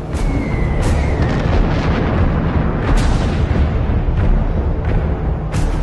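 Tank firing on enemy positions near Klishchiivka during an assault, a loud continuous rumble of artillery-like blasts with sharp bursts punctuating it.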